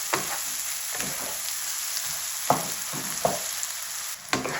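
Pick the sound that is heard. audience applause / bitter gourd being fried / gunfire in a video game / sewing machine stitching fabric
bitter gourd being fried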